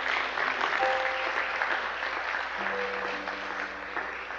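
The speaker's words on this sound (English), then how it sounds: "Why don't we just give the Lord a hand clap offering for loving us so much this morning." Church congregation clapping together in a hand clap offering, steady sustained applause filling the room from start to finish with no speech over it.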